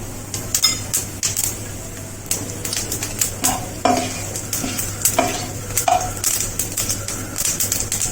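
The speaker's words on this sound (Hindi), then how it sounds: "तेल से धुआं निकल रहा है, तेल गरम हो गया। इसमें जीरा डाल दे रहे हैं।" Cumin seeds dropped into smoking hot oil for an eggplant dish, loud crackling sizzle with sharp pops and spoon scrapes against the pan, repeated in uneven bursts over a low hum.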